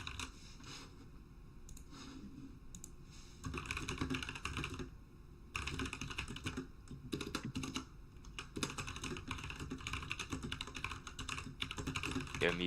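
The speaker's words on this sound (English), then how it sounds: "I'm just typing something now, and my keyboard's loud." Rapid clattering keystrokes on a loud computer keyboard run steadily throughout, with short pauses between bursts of typing, close to the microphone.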